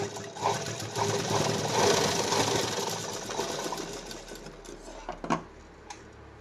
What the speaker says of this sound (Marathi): सिंगल घ्या किंवा डबल शिलाई घ्या.